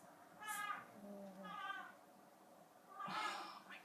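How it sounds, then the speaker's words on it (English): A cat meows three times in separate, drawn-out cries, fairly close and moderately loud, with a quiet room in the background. "Cat."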